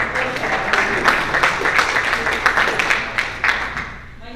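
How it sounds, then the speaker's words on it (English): A Kiwanis meeting audience gives a brief round of applause, dense indoor clapping that holds steady for a few seconds and then fades. "So a big round of applause for everybody who's doing flip tabs."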